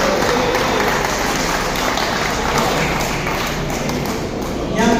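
Audience applause at an alumni association annual general meeting, a continuous loud spread of clapping from a hall crowd that fills the whole stretch with a slight rise at the end.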